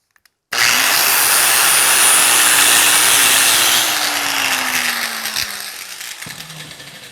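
An angle grinder cleans rough spots on a metal hardy tool for blacksmithing, starting abruptly and running loud and steady up close, its whine slowly dropping in pitch under load.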